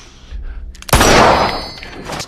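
In a scene from the 2016 film Don't Breathe, a single loud pistol shot fired upward cracks out after a quiet moment, followed by a ringing, echoing tail that slowly fades.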